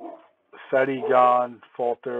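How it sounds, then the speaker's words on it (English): A dog barks repeatedly in the background, several loud bursts coming through clearly under and between a man's speech. "Sorry if you hear my dog in the background. He's barking his head off."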